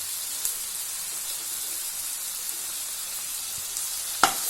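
Tomatoes and a handful of mint sautéing in a pan, giving a steady, close frying sizzle and hiss throughout, with a couple of brief clicks from the pan or spoon.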